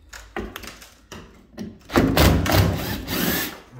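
A power drill whirs in short bursts while removing screws during domestic plumbing work, then runs louder and longer with rattling, grinding noise as it works, fairly close.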